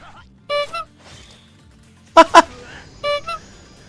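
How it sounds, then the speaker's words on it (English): Short car horn honks from a soundboard, two quick beeps, then a double toot, then another pair, loud and close, playing over a livestream session of Like a Dragon: Ishin with speech. "Did you get a new honk noise?"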